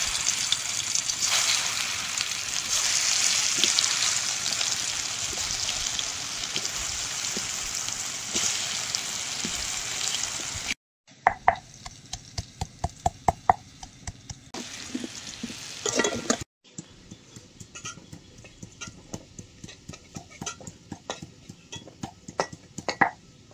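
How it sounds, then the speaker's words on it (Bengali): Pieces of elephant foot yam fry in hot oil in a home kitchen, with a dense steady sizzle that drops out and returns in quieter bursts, punctuated by repeated clinks of a spatula stirring in the pan. "পটলগুলো ভাজা হয়ে গেছে, ওই তেলে ওলগুলো ভেজে নেব।"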